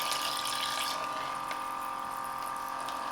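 Water pumped through a hose by a Parkside solar irrigation set, a constant pump hum with running, splashing water, steady and close.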